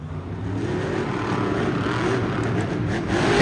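Monster trucks Jurassic Attack and Megalodon race at Monster Jam in Fargo, North Dakota, their engines blending into a continuous, distant, loud roar that swells slightly at the end.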